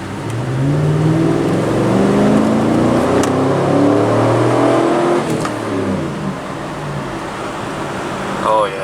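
The engine of a 2007 GMC Yukon SUV, newly replaced, revs up and accelerates steadily, its rising drone filling the cabin with road noise, loud and close throughout.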